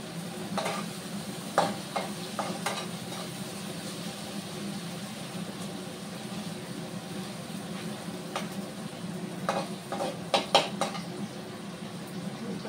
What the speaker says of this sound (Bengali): এখন টমেটোটা একটু ভেজে নিয়ে তারপরে মশলাটা দিয়ে দেবো